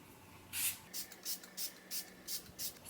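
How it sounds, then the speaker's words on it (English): Smashbox Photo Finish setting spray misted onto a face, a run of about seven short, close hissing spritzes in a steady rhythm over quiet room tone. "I'm going to go ahead and set my face with the Smashbox Photo Finish Setting Spray."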